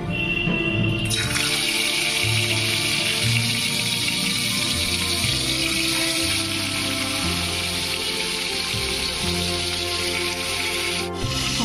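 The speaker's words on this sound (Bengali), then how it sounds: "তো এখন আমি এর মধ্যে দিয়ে দেব ম্যারিনেট করে রাখা শোল মাছটা" Marinated snakehead fish goes into hot, smoking oil in a wok and fries with a loud, continuous close sizzle and hiss throughout, with no speech.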